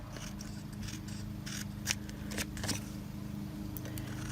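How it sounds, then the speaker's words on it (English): Scissors snip through paper for a journal collage, a series of close, quiet crisp cuts in uneven rhythm over a soft background hiss. "And we'll just cut along that edge."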